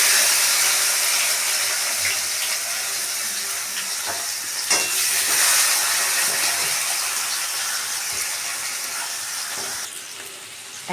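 Bitter gourd pieces fry in hot oil for a potato and bitter gourd curry, a loud, steady close sizzle running throughout with a few brief clatters of a utensil against the pan.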